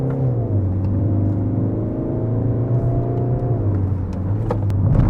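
A Peugeot 2008's engine runs steadily under load, its drone stepping down in pitch partway through as it shifts gear manually, then climbing again, loud and continuous with no talking.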